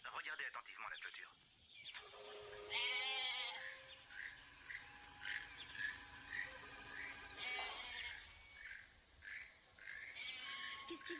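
A goat bleats in several wavering, nasal cries amid a soundtrack-like mix, fairly faint and mixed with other sounds and a voice.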